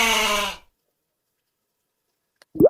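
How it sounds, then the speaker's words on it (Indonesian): A goat bleats once, a loud wavering harmonic call lasting about half a second, then silence until a brief rising animal sound near the end. "Bagaimana ya suara kambing?"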